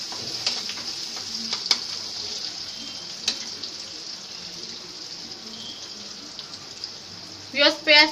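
Onions fry in a pot as the first step of a chicken biryani. A steady, close hiss of sizzling oil carries on with a few soft clinks, and a voice briefly speaks at the end.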